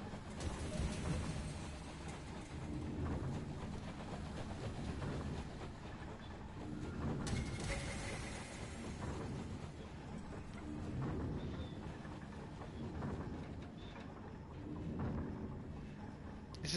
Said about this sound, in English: Trains this time.